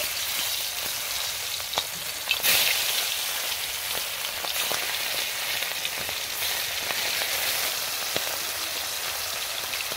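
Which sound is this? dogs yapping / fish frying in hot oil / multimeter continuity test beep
fish frying in hot oil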